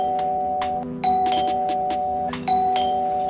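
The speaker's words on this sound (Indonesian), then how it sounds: "Lalu bel berbunyi." A doorbell in a Hong Kong film rings twice in a row, each a clear, loud electronic chime holding a sustained tone, with a short dip between the two presses.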